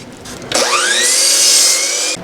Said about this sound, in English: Now we'll cut our 2x4s to 73 inches.